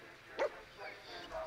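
The dog companion Dogmeat in the video game Fallout 4 gives a single short bark, followed by softer whimpering sounds, faint and close within the game audio.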